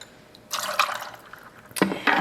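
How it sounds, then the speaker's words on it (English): Lemonade is poured into a glass cocktail shaker in two short close splashing bursts, with a quiet pause between them. "And then we need 2 ounces of the lemonade"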